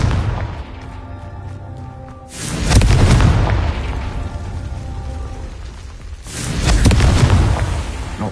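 Confringo explosive spell going off in Hogwarts Legacy gameplay: two loud booming blasts a few seconds apart, each with a broad rumbling burst that decays slowly, over a steady game soundscape.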